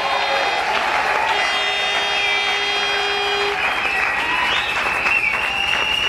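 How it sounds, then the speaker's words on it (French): A church congregation claps loudly and continuously in praise to God, a dense, even wash of applause filling the whole stretch with faint tones ringing beneath it. "qui manifeste sa joie en acclamant très fort pour la gloire de Dieu"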